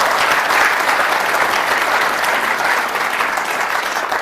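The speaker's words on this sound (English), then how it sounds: "Joe Bast in particular and Fred Singer must be given, I think, a huge round of applause" Audience applause at a climate conference keynote, a dense, steady clapping from a large crowd that stays loud and even throughout.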